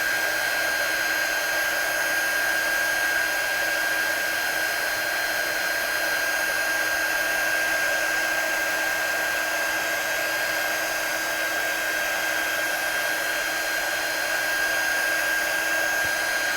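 A heat tool blows steadily to set white embossing powder on a stamped card, a constant close whirring hum with a high whine that runs without a break for the whole stretch, with no talk over it.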